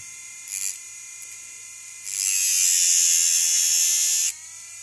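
A custom-made Dremel rotary tool sharpening a bit gives a high electric whine with brief touches, then a sustained louder grinding buzz for about two seconds before easing back to an idle hum.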